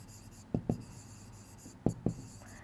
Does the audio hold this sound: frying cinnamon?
no